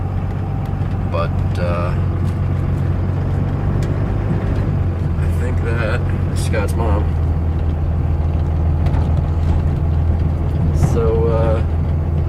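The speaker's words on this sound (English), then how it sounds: "We're in the old Dodge, if you couldn't tell, because I mean the inside looks like a Dodge and it's loud and diesel-y." Old Dodge diesel truck heard from inside the cab, a loud steady low engine drone and rumble throughout, with people talking over it.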